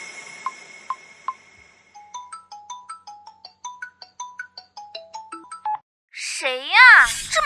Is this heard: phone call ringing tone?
yes